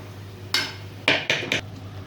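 A lid goes onto a cooking pot of squash and spices with four sharp, close clanks: one single hit, then three in quick succession, with no voices.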